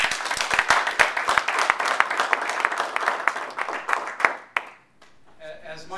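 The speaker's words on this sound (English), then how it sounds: "Let's give one more round of applause to President Lynn." At the SIOR Robert P. Boblett Award presentation, an audience claps with sharp, distinct hand strikes for several seconds before the applause stops abruptly and a speaker begins.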